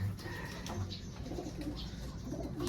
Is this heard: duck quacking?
no